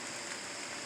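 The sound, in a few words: rain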